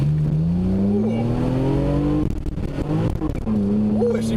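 A manual MK2 Toyota Supra revs hard in low gears, its engine note rising, dropping at a shift and climbing again, with a rough broken stretch as the tires break loose, loud and close from inside the car.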